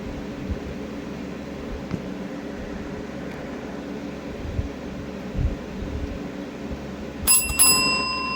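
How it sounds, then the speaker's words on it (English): A single bell rings to open a wrestling match, a bright metallic strike rising late out of a steady hum of background noise. "The bell rang, and Rainbow and Ling locked horns as Hirosh"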